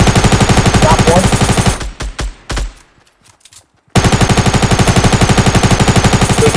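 Rapid automatic gunfire from a battle royale video game, loud and dense bursts that break off into scattered shots and a near-silent pause before a fresh sustained volley.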